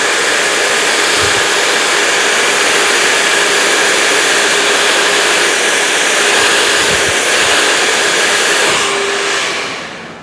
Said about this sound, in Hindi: फिर ठंडी हवा, अब हम कोल्ड ड्रायर चला रहे हैं